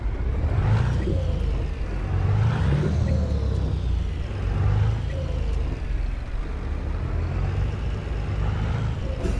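A heavy truck engine in Euro Truck Simulator 2 rumbles steadily up close, its low drone rising and falling in slow waves of revving with no talk over it.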